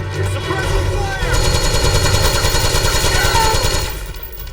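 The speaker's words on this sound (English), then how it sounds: "Suppressing fire!" Sustained automatic gunfire in Metal Gear Solid 4, a dense rapid rattle running for several seconds at steady loudness over a busy battle backdrop, then easing off near the end.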